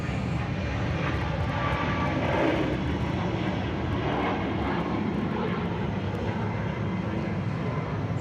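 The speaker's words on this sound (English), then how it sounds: "next jet coming in is Boeing 737, Delta Airlines flight 2859, coming in from Indianapolis" A Delta Airlines Boeing 737 jet coming in to land at hazy Atlanta Hartsfield-Jackson airport, a loud continuous engine roar with broadband rumble holding steady throughout, no voices.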